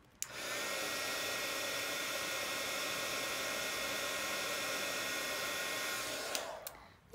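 A heat tool runs for about six seconds, melting embossing powder on a card with a steady, fairly quiet, airy fan roar that starts and stops abruptly.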